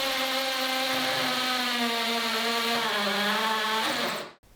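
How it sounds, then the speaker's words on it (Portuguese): A Parkside cordless drill whines steadily as it bores a hole, the pitch sagging slightly under load before the motor cuts off abruptly at the end; no talking. "a rotação da máquina a fazer o furo"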